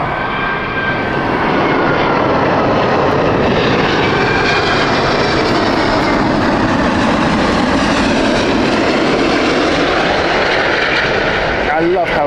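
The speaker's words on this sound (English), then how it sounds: "we're going to give you a warning of an A380 on bound now" An Airbus A380 on final approach at Heathrow passes close and loud, a powerful continuous jet roar with whining tones that fills the whole stretch and shifts slightly as it passes.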